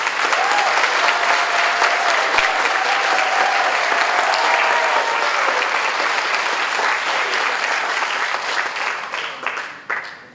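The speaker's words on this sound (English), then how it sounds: "one more big round of applause for all completed" Audience applause fills a school recognition day ceremony, a dense steady wash of clapping from many hands that holds loud for about ten seconds before tapering off at the end.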